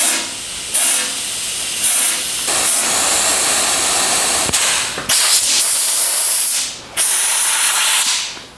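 Air hisses out of a crack in a steel gas tank, escaping beneath a bracket near a silicon bronze weld repair, a steady close blowing rush broken by a few brief pauses and surges.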